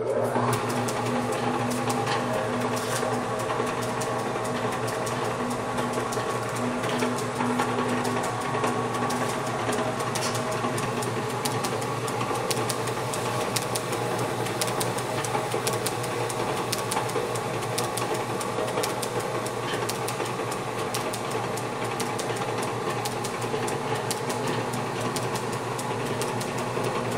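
An Avey drill press hums steadily after being switched on, a continuous motor whine with a faint rhythmic mechanical rattle running unbroken throughout, no voices.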